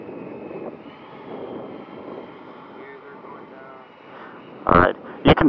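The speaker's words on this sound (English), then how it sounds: "You can start a landing approach, Frank." A Willy Nillies GLH aircraft on its maiden flight approaches to land, giving a distant, steady engine drone under wind noise, followed by a few loud, close bumps near the end.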